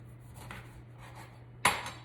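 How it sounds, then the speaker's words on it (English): A single bright clatter near the end as lemon slices drop into a pot of lemon, ginger and clove tea, after soft handling noises over a steady low hum. "I'm just gonna cut it into nice big slices, just like that, and I'm dropping that right in there"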